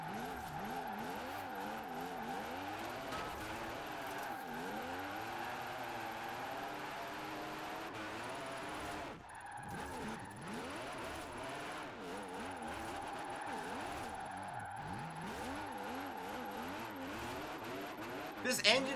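The engine of a drift car in Forza Horizon 4 revs and sweeps up and down through gear changes, with tires squealing across the run and a brief lull midway, all under a player's talk.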